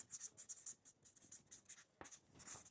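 Pen scratching on paper as someone writes by hand. The strokes are faint, quick and irregular, with short pauses between them in a quiet room.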